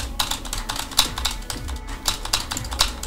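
Fast, hard typing on a computer keyboard during a gaming session, a loud, clattering burst of uneven keystrokes close to the microphone.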